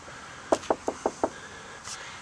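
Five sharp knocks on a door or wall in a quick, even series, fairly close and alone, followed by a faint short noise.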